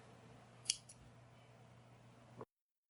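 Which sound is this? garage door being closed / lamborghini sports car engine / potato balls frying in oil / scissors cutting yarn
scissors cutting yarn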